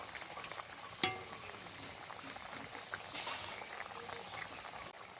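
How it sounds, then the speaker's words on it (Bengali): Shol fish kalia gravy simmers and bubbles steadily in a pan after fried fish pieces go in, a continuous close bubbling hiss with a sharp clink near the start and no voices. "মাছ দিয়ে আর 2-4 মিনিট ফুটিয়ে তারপরে নামিয়ে নেব।"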